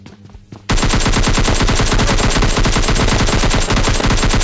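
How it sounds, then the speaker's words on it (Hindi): Dense, loud automatic gunfire bursts out after a brief quiet opening in the mobile battle royale game PUBG Mobile Lite, a rapid continuous rattle of shots with no voices. "लेकिन फिर सॉलिड फुटस्टेप की आवाज़ आती है मेरे भाई"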